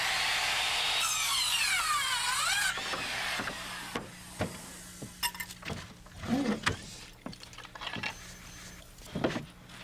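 A scrap 1x6 board is cut at an angle for a roof valley support with a power saw, which gives a brief, rising and falling whine early on, then scattered knocks, clicks and handling sounds of the wood being set in place.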